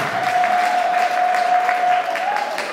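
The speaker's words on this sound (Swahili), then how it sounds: "Hebu piga tena makofi kwake" Steady applause from a crowd at a church anniversary celebration, honoring a woman, dense clapping sustained throughout with a faint held tone underneath.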